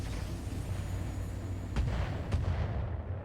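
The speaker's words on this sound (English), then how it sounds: "More mortars!" Two booming mortar shots fired in the mech combat game RogueTech at a 30-ton Brigand battle mech, landing as sharp thuds over a constant low rumble about a second apart.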